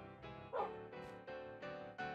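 A dog in the video game Minecraft gives several short, close yips and barks at an uneven pace, fairly quiet overall.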